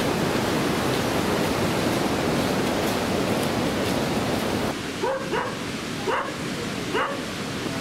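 A small dog on a night-time visit to Machu Picchu gives a few short, sharp yips near the end of the clip. Before that, a steady roar like rushing water or wind fills the sound.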